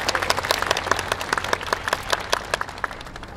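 An audience claps in steady rhythmic time along to a student yosakoi dance performance at an outdoor festival in Kobe, the crowd's hand claps dense and continuous over background music.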